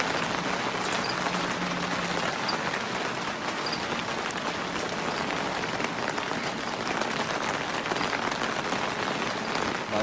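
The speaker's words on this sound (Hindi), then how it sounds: "बारिश तेज होती है।" Heavy rain hammers a roof in a dense, unbroken roar that stays loud and steady throughout, with no voices over it.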